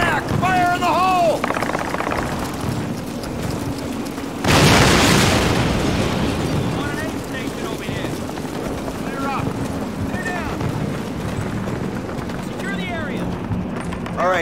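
A grenade goes off in a Call of Duty World War II village battle, one loud broadband blast that rolls on as a long rumble, with shouting soldiers and scattered war noise around it.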